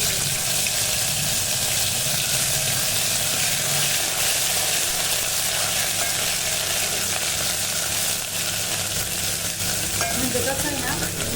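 Onion-coconut paste sizzles in a hot pan for an egg curry, a constant dense frying hiss with stirring scrapes, loud and close, with a faint watery undertone and no talk.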